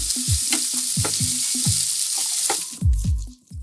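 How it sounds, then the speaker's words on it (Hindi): Onions and tomatoes frying over high heat, a steady bright sizzle with repeated knocks and scrapes of a utensil stirring the pan, close and fairly loud. "पहले मैं इसमें तेज आंच पर सलाद के कुछ प्याज और टमाटर फ्राई करूंगी।"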